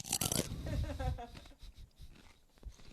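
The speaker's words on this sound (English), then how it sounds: "Could you play back my crunching noise?" A person makes crunching noises close to a microphone, with a sharp burst of crackle at the start, then vocal sounds and scattered crisp crunches trailing off.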